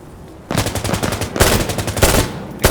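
FAMAS rifle firing in rapid automatic bursts in the video game Insurgency Sandstorm, two loud, close strings of fast shots separated by a short pause, ending with a single sharp report.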